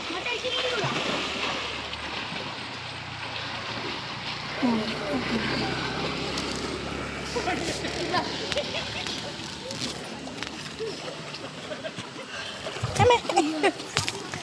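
Villagers jump one after another into a village bathing pond or river, sending up loose splashes and sloshing water while voices chatter and shout nearby, with a sharper splash near the end.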